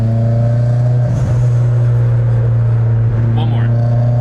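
A turbocharged Toyota Altezza engine holds a steady, loud droning idle-to-rev tone with a raspy edge, close by, while people talk over it.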